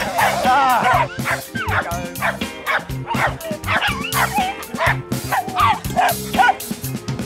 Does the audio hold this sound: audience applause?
no